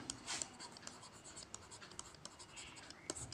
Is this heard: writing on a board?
yes